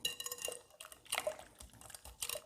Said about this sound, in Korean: 살짝만 섞어주고요